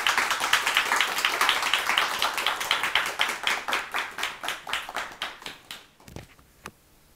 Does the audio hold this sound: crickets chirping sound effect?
no